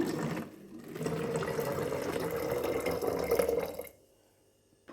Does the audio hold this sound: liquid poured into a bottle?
yes